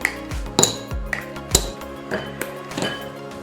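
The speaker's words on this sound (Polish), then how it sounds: "do miseczki pokruszę 150 gramów czekolady" Pieces of milk chocolate, 150 g in all, snapped and dropped into a small bowl. Several sharp clinks and taps ring out one after another at close range, each followed by a short resonant ring.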